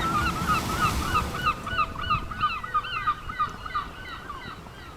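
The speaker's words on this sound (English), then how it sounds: "Do you hear the seagulls?" Seagulls give repeated harsh honking calls in a steady series over surf-like wash and low rumble on a shore, fairly close and loud.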